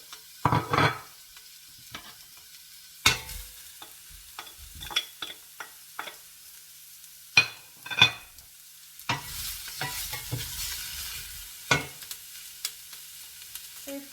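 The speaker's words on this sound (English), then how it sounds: "Add the sliced vegetables to a pot and cook over medium heat for 15 to 20 minutes until caramelized" Sliced vegetables cooking in a pot over medium heat for ropa vieja, a soft sizzle under intermittent bursts of a utensil stirring and scraping the pot, some quick clatters close by, no voices.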